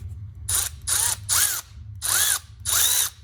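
Milwaukee M12 Fuel 3/8-inch cordless ratchet whirring in five short bursts as the trigger is pulled and released, each burst rising in pitch with a bright mechanical whine, close and loud with brief quiet gaps between.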